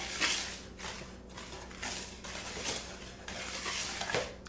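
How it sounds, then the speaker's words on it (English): Dry cake ingredients with salt being mixed together in a bowl: faint, repeated scraping and stirring strokes in an uneven rhythm, close and quiet, with no talk. "And we're just gonna kind of mix those dry ingredients together."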